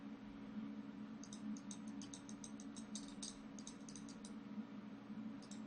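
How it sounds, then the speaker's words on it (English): A computer mouse clicks during Photoshop editing, quick light clicks in small irregular bursts over a faint steady room hum, close and quiet. "Clicking a few extra times."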